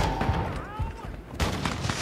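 Gunfire in the Call of Duty DMZ video game, a few sharp shots crackling amid game sounds, ending in a louder burst, with voices heard alongside.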